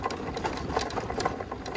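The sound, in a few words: motorbike riding over a bumpy off-road trail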